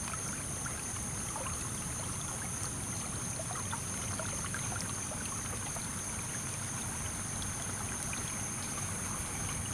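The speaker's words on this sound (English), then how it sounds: "got a little waterfall there going on" Steady rushing and trickling water from ditch drainage spilling in a small waterfall nearby, continuous and fairly even with faint splashy detail throughout.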